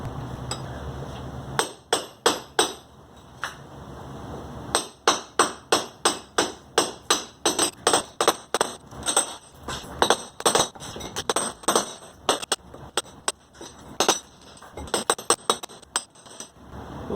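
A hammer breaks up a patio floor to replace a leaking drain, striking in rapid, loud, sharp bursts with brief pauses between runs.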